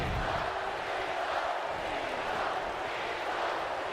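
Steady, dense crowd roar of an arena audience cheering for John Cena in the wrestling video game WWE 2K19, a continuous wash of noise with no breaks and no clear voices standing out.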